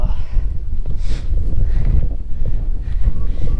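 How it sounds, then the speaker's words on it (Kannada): Strong wind on the Kumara Parvatha mountain trek buffets the microphone in loud, continuous gusts, a low rumbling roar with rustling bursts and no clear speech. "ಸಖತ್ತಾಗಿದೆ ಗಾಳಿ"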